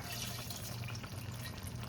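Tamarind water is poured in a steady, continuous splashing stream, close up, with no voices, into spinach dal.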